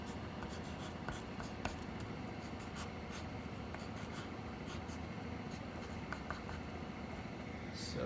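A pen scratching steadily on paper while a chemical structure is drawn by hand, a continuous close scribbling texture with short strokes and taps over a constant background hum.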